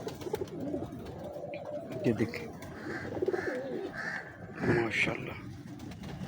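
Ferozpuri pigeons coo in repeated soft throaty calls up close, with someone talking over and between the cooing.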